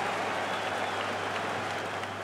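Bayern Munich supporters cheer and applaud after a win, a dense, steady roar of crowd noise filling the stadium without letup.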